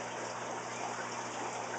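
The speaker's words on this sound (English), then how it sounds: "So you fill up this side with water." Water pours steadily into one side of a new aquarium overflow system, a continuous close rushing gush that stays even in level throughout with no talking.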